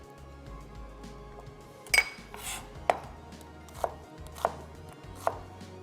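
A knife chops food into thick pieces on a board in a kitchen, a series of about six sharp, well-spaced strikes with faint clinks, close and clear over quiet background hum.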